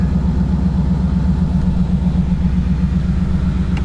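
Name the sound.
Dodge Hellcat car engine running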